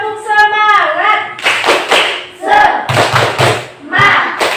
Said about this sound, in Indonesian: Ayo lagi, sekali lagi. Tepuk semangat.